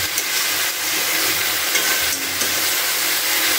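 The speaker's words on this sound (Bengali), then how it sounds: "এটাকে আবার কিছুক্ষণের জন্য ভাজতে দিয়ে দিলাম" Red amaranth greens with bori and peanuts frying in a pan, giving a dense continuous sizzling hiss with a couple of brief stirring scrapes, close and steady with no voices.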